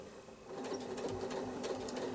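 A sewing machine stipples a quilt block in free-motion machine quilting at 1/4 inch scale, with a steady close whirring hum and rapid needle ticking that runs slowly and evenly for a couple of seconds without talking.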